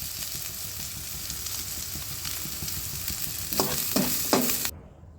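Ingredients for a white sauce pasta sizzle in a hot pan, a steady frying hiss with stirring scrapes and a few louder clatters near the end before the sound cuts off abruptly, no voices.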